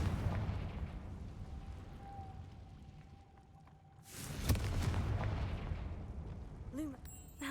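In a video game, a Confringo blasting curse sets off a sudden deep explosion that booms and then rumbles away over a low ambient background.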